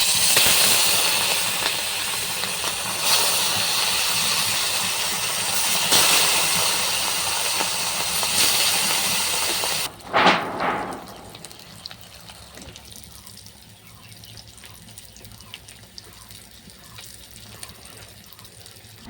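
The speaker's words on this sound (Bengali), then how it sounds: "এরপর আমি মাছটা ভেজে নেব" Loud hissing sizzle of rohu fish frying in hot mustard oil for about ten seconds, then a sharp splatter and quieter spitting bubbles.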